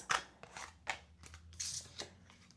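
Tarot cards being shuffled by hand make a series of crisp riffling snaps and soft slides, close and fairly quiet, with no talk.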